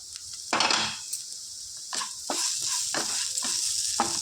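Spiny gourd and egg curry sizzles in a pan on the stove while a utensil stirs and scrapes at intervals, giving a steady close frying hiss with a few clinks.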